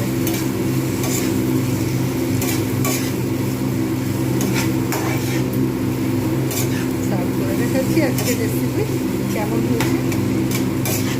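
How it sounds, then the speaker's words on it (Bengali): Taro leaves with prawns being stirred in a frying pan, a steady scraping and clinking of utensil against pan over a continuous low hum, with a soft background hiss throughout. "একটু সময় নিয়ে আমাকে কিন্তু এইটা নেড়ে নেড়ে এটাকে তৈরি করতে হবে।"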